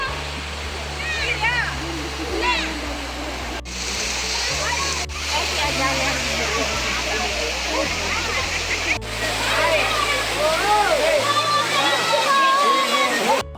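Water rushes steadily at Kumbakkara Falls, flowing low, a constant splashing wash heard under loud talking and background music throughout.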